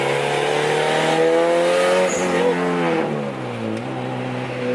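A Honda car on street tires accelerates hard, its engine rising loud and close in a strong climbing drone that shifts pitch partway through and keeps pulling, with no talking.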